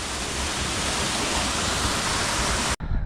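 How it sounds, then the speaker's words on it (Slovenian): Small waterfall, the last of several falls on the Mrzli potok stream in the Posočje region, roaring as steady broadband rushing water close by, with no voices, ending abruptly. "To je pa res, zadnji slap na mrzlem potoku."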